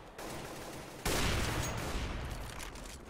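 AWP sniper rifle shots in a Counter-Strike match on de_dust2_se, a loud sharp blast that cuts in abruptly and rings out over steady game noise.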